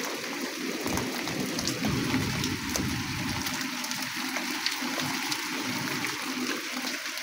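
Light overnight rain falling outdoors, a steady, soft broadband hiss of drops and trickling water that holds at an even level throughout, with no voices present.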